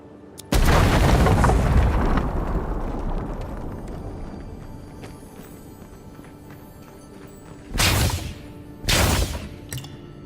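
In the video game Avowed, a loud explosion booms close by and decays into a long rumbling tail, followed later by two shorter, heavy impact bursts.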